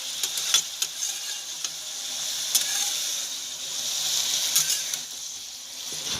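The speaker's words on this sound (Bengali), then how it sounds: "এই লাউ পাতায় যা জল বেরোবে এটাই ওটা সেদ্ধ হয়ে তারপরে ভাজা ভাজা হবে।" Bottle gourd leaves sizzle and fry in a pan without added water, a steady close hiss with scattered crackles and soft stirring clicks, no talking.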